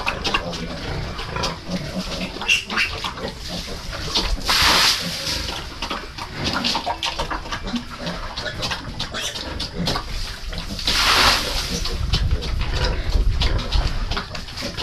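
Piglets being bathed with water, a busy mix of squeals, splashing and animal noise that keeps up the whole time, with bursts of hissing spray rising and falling and no clear speech.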